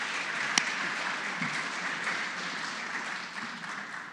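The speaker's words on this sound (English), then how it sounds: "Such a nice thing when people clap for you, isn't it?" A congregation at a Shabbat service claps in welcome, a steady wash of applause at moderate level with a few sharper individual claps and slight tapering toward the end.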